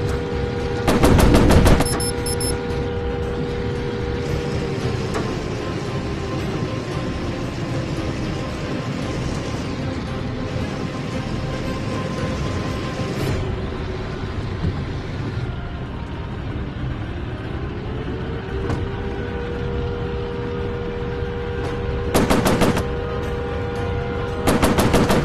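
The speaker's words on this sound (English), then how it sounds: "I overheated the machine guns." Sustained machine gun fire from a warplane in a VR flight combat game, loud continuous rattling bursts over a steady engine drone, with brief sharper bursts near the start and end.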